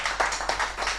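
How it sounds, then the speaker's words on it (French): Audience applause at a school read-aloud event: a brief, steady burst of many hands clapping together, dense and fairly loud, with no voices over it. "Vos applaudissements."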